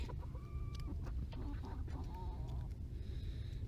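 Hens close by, giving short clucks and drawn-out squawking calls over a low, steady background rumble.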